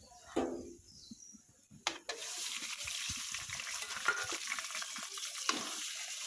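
Black cumin seeds spatter in hot oil for tempering, with a sudden burst of crackling that settles into a steady, close sizzle along with a few clinks of stirring. No one speaks.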